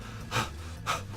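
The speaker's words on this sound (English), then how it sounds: "I hope you're panting because of all the physical exertion" A character from the video game Zero Escape: Virtue's Last Reward pants: two quick, breathy exhalations about half a second apart, close and fairly soft, over a faint steady game background.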